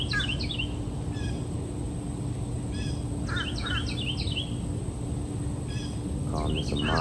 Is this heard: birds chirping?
yes